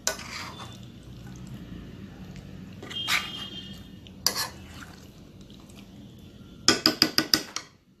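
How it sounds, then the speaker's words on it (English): Mutton chaap being stirred in a pan gives quiet scraping and scattered metallic clinks of a utensil against cookware, ending in a short burst of rapid clanks, with no voices. "I'm gonna stir it"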